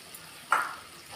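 A single short clatter and hiss rises once in the middle, then fades, as milk goes into a pan to cook a white sauce for pasta. The moment is brief and close, with quiet background either side.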